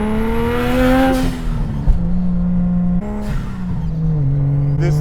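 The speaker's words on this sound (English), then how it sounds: "just let the turbo kind of spool a little bit," A turbocharged RB25-powered widebody Datsun 280Z accelerates, its engine note climbing and dropping through several shifts, heard loud and close from inside the car with a brief squeal-like burst partway through.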